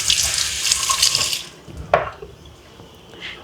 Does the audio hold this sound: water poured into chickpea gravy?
yes